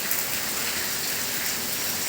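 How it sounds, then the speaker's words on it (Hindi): Heavy rain pours down steadily in the Uttarakhand hills in the evening, a dense, even hiss of downpour close by with no voices. "ये देखिए बारिश, झमाझम बारिश"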